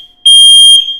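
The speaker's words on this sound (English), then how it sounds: "If you guys can tolerate the buzzing fire alarm, right?" A building fire alarm sounds during a scheduled drill: a loud, steady, high-pitched electronic tone that starts abruptly and holds for most of the second before easing slightly. No one speaks.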